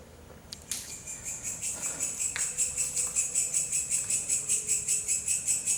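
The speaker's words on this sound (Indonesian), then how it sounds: "Itu loh guys, suara jangkrik yang horor guys. Kicrik gitu." Crickets chirp in a steady, fast pulsing rhythm, loud and close, after a couple of brief sharp clicks at the start.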